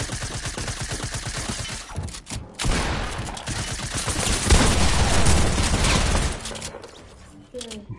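Rapid bursts of video game gunfire rattle in dense volleys, with a short pause midway and faint voices beneath the shooting.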